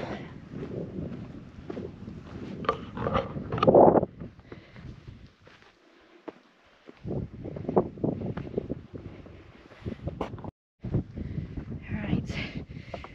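Strong wind on a rocky mountain in the Lake District near Great End, gusting against the microphone in uneven close roars and rustles, easing briefly, then returning.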